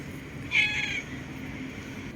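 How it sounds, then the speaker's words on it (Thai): A cat out walking in a grassy field gives one short, clear meow midway through, moderately loud against a quiet outdoor background. "เบิ่งแมวพี่น้อง"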